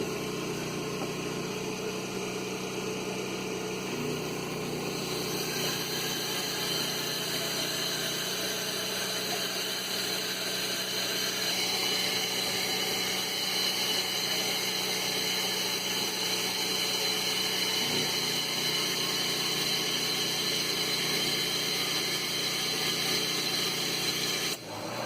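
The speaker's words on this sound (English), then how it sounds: "The pump should kick back on from the pressure switch." A household water pump runs on a pressure switch, giving a steady close mechanical hum and whine with a slight shift in tone partway through, continuous throughout without talk.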